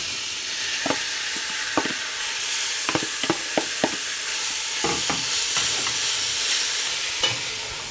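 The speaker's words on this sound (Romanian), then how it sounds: "Și acum prăjim un pic carnea." Pieces of meat sizzle and fry in a pot for goulash while a utensil stirs and scrapes, giving sharp irregular clinks over a steady hiss.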